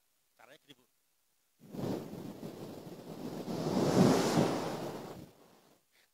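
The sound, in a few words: people imitating ocean waves with their voices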